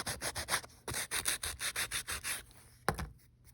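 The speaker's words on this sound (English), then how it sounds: "I'm going to try to sand it down a little and make it less sharp" Sandpaper rubbing back and forth over a sharp wooden corner, about a dozen steady rhythmic strokes close by, then a pause and one last scrape.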